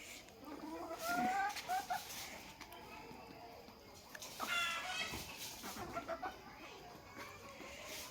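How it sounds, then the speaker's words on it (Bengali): Desi chickens outside in the evening cluck and squawk intermittently at moderate distance, with someone talking over them. "বাইরে যে মুরগিরা আদার দিছে, মুরগি খাইতেছে।"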